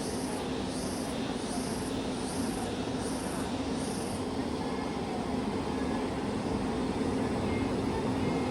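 Train pulling in at George Town, Penang, heard as a steady, fairly loud rumbling roar that holds throughout with no voices, a few faint high squeals near the start.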